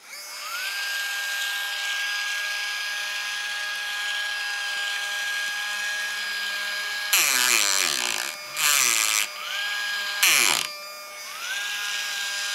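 A Ryobi power carver with no speed control whines at a steady high pitch, then bites into an old pine 2x8 board in three short, loud, rough bursts before returning to its even idle whine.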